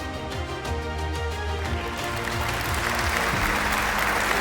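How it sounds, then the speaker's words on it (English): Children and teachers in a school audience at an Independence Day ceremony give steady applause to award winners while music plays underneath. "Children, once again, clap for these children."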